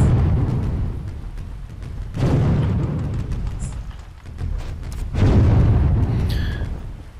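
Ship cannons fire repeatedly in the naval game Windward, with loud booming salvos at regular intervals, each decaying into a low rumble, and sharp cracks in between.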